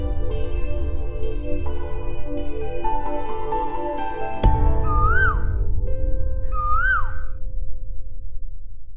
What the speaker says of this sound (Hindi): कोयल वापस आ गई।